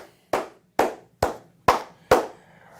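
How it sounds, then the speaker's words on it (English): Five sharp hand claps, evenly spaced and close, each ringing briefly over a low background hum, with no talking. "Clap it up to him."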